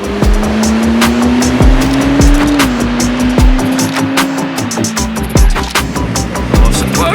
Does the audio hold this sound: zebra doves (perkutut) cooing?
no